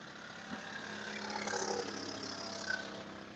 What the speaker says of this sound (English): that's the golf cart that just passed by.